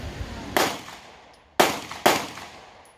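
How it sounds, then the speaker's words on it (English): Suppressed 9mm pistol shots, three sharp reports with the first alone and two close together, each a crisp crack trailing off into a short decay, fairly near and loud. "you can get an idea of the difference with the suppressed shot"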